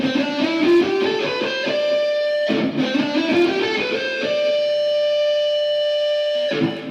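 Rapid picked electric guitar notes run in a quick ascending lick with distorted tone, followed by a held note and a final sharp attack.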